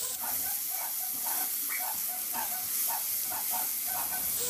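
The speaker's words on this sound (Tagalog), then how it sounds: "Maglagay na ako ng kunting mantika sa kaldero at igisa ko na rin yung sibuyas." Onion sautéing in a little oil in a pot: a steady, close sizzling hiss that continues throughout, with faint rhythmic stirring taps and no voices.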